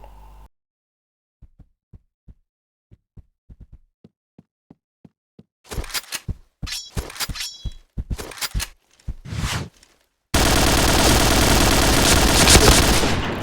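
Gunfire in a video game: a regular series of single sharp shots, then clustered rapid bursts, ending in a loud, sustained roar of continuous fire.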